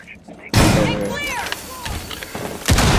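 A Rainbow Six Siege breach charge blows through a wall: a sudden loud, close blast with a heavy rumbling tail, then gunfire and game noise, and a second sharp burst near the end, with voices faintly underneath.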